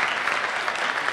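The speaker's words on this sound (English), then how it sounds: "I just want to have you guys give them a round of applause for being here" An audience at a Kansas City 1 Million Cups gathering breaks into steady, full applause, dense clapping from many hands filling the room without pause.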